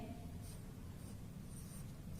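Faint pen or marker strokes writing a word on a board or page during a kindergarten English lesson, a few soft scratchy bursts over quiet room noise, with no speech.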